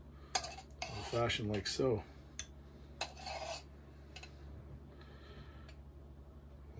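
A spoon scrapes and clinks against a cocktail shaker while scooping Guinness foam onto a stout old fashioned, a quick cluster of metallic taps and scrapes near the start, then quieter. A voice speaks briefly.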